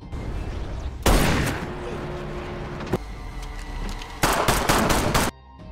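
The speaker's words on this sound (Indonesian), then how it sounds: "anak buah Milo ditembak oleh Ian, Iris, dan terakhir, Mike" Rapid bursts of automatic gunfire in a film soundtrack, loud sustained volleys separated by quieter stretches of mechanical noise.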